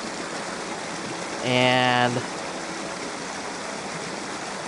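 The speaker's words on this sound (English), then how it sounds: "So they are filling the lake with water at the moment" Water pours from a pump into a lake being filled with city water, a steady rushing flow throughout, with a brief tonal engine-like burst partway through.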